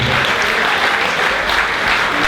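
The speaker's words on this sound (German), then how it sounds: "also ein Applaus für unsere 2 Kollegen" An audience at a Gstanzl and folk music gathering in Altrandsberg claps hard and steadily, a dense close wash of applause with no break.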